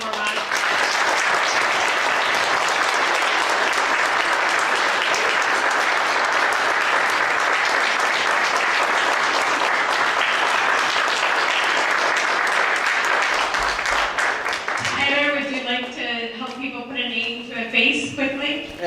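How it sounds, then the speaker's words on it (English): An audience at a South Bend city council candidate forum claps in a long, loud round of applause, steady for about fifteen seconds before it fades and a voice starts talking. "So let's give them one more round of applause."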